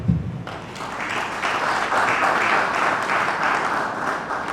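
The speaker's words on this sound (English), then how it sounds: "I think someone should clap for that." An audience claps at an awards event honoring Nigerian property achievements, a steady, dense round of applause that swells after a sharp start and holds evenly throughout.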